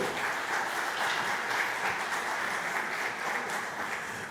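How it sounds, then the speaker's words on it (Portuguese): Steady, even applause from a seminar audience welcoming a speaker at a panel on artificial intelligence, a continuous wash of clapping at moderate volume with no voices. "Com aplausos, recebam nossa primeira palestrante, doutora Luciana Diniz Nepomuceno."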